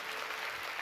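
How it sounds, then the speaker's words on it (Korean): A church congregation claps together in steady, dense applause, a continuous even patter filling the room without talk. "박수합니다."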